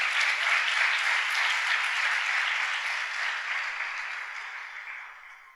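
A church congregation applauds the Lord in a steady, dense wash of clapping that holds for several seconds and slowly tapers off toward the end.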